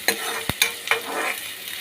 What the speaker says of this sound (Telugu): తర్వాత సన్నగా కట్ చేసి పెట్టుకున్న ఒక రెండు ఉల్లిపాయ ముక్కలను వేసుకుంటున్నామండి